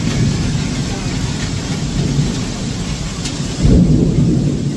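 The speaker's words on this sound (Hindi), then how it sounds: "बिजली कड़क रही है जोरों की" Steady heavy rain hisses throughout, with a low rumble of thunder building near the end, loud and close.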